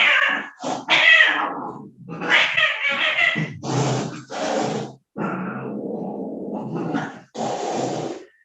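Several loud meows and drawn-out yowls from cats nearby, coming in a series of separate calls with short pauses between them.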